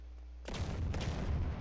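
A loud explosion in a DayZ-style multiplayer survival game erupts suddenly after a quiet moment, a dense burst of booming noise that rolls on with rumbling gunfire-like crackle for over a second.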